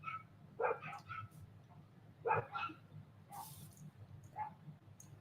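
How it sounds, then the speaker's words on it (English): Several dogs bark in repeated bursts outdoors at wildlife nearby, sharp yips and barks standing out over a low steady hum, at moderate distance. "They bark at all the wildlife out there."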